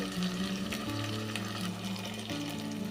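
Ground garlic methi paste with its water frying in a pan over a medium gas flame, a dense, even sizzle lasting the whole stretch, with a steady low hum beneath and no talking.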